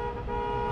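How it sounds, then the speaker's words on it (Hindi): A car horn on a street gives one short, steady blast, loud and close, with nothing else heard around it. "जॉय साहब ने कहा था हॉर्न बजाओ ताकि मुझे यकीन हो कि तुम लोग बाहर आए हो।"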